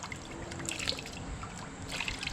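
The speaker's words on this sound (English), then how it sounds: "So I just give it a bit of a rinse with that salt water." Salt water from a cup trickles and splashes over a freshly caught snapper being rinsed, a close, steady liquid pour with small drips and no talking.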